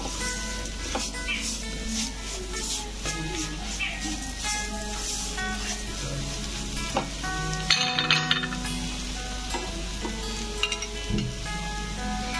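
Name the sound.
stirring grated coconut, salt and cardamom in a pan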